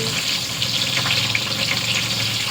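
Hot cooking oil drains from fried capsicum and carrots through a strainer: a steady, close, hissing trickle of liquid that runs without pause, with no talking.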